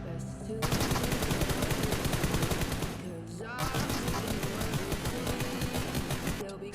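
Rapid automatic gunfire from the left fire button in BGMI/PUBG mobile, two sustained bursts with a short pause between, loud and close with steady rhythmic shots.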